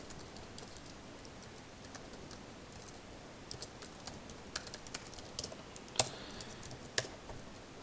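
Quiet typing of code on a computer keyboard, a run of soft scattered key clicks that grow busier and sharper toward the end, with no talk.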